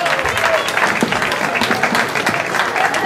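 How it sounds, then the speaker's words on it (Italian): A crowd applauds the class and group winners at the Trofeo Città di Sambatello rally with steady, dense clapping, while voices carry on over it throughout. "Un applauso a loro"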